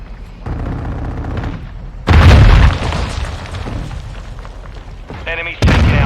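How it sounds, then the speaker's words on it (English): A flash grenade goes off in a first-person shooter match, a loud sudden boom that cuts through ongoing gunfire and game sounds, followed by more shots while a voice talks. "Plant flash grenade."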